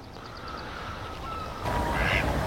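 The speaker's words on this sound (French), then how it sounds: "Ah oui, c'est bien des mouettes que vous entendez" A few seagull cries sound faintly in the distance over steady wind noise by a river about 300 metres from the sea, followed by a brief louder squawk.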